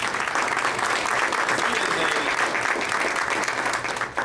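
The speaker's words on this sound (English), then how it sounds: "So let's give a round of applause for Javon." A seated audience gives a sustained round of applause, dense loud clapping filling the whole stretch before tapering off at the end.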